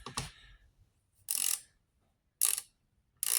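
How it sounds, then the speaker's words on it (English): A GearWrench ratchet wrench clicks in three separate close, loud bursts of rapid ratcheting, with a shorter tap and quiet gaps between them and no talking. "I'll show you the gear wrench here."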